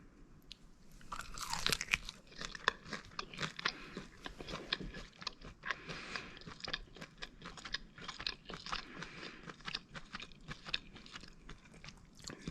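Crispy Cajun chicken wings with a wet rub are bitten and chewed up close, with loud crunches at first, then a steady run of crackling chews.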